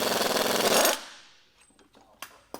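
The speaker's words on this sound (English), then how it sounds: "we'll use our ball joint removal tool to remove this ball joint" A ball joint removal tool works on a truck's steering ball joint in a loud, rapid pneumatic hammering burst that stops abruptly, followed by a few faint metallic taps and clanks.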